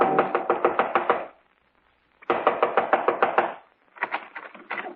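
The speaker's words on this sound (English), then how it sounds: "Within 15 minutes, I was knocking on his front door." Knocking on a front door in an old radio drama comes as three quick bursts of sharp, repeated raps separated by short pauses, close and fairly loud.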